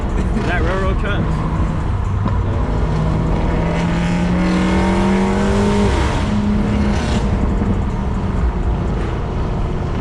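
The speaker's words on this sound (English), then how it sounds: "you hear my fucking turbo spooling? God damn! That bitch whistling." A BMW 335i single-turbo engine roars steadily on back roads while a high, rising whistle swells and fades over it, the turbo spooling; voices talk underneath.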